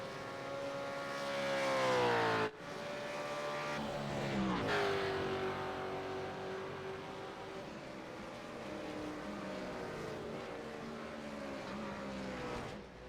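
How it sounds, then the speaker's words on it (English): A race car in the iRacing sim slowing into the pits, its engine note falling and rising through gear changes, loud and near with harmonic whine and a sharp drop near the start. "Car going into the pits, not the PRs."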